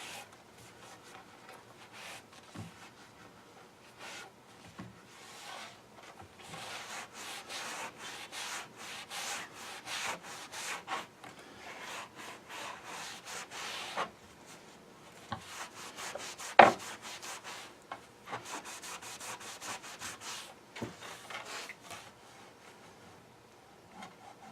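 Soft, irregular rubbing strokes as wax is worked onto a cherry wood charcuterie board, quiet and close, with one brief sharp tap midway and no talking.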